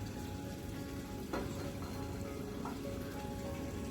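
Ground spice paste and turmeric sizzling steadily in a pan of oil for a prawn and potato curry, a continuous crackling fry with a few soft stirring clicks, no talk.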